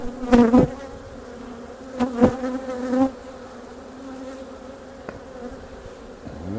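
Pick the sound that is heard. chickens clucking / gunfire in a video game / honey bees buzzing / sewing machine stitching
honey bees buzzing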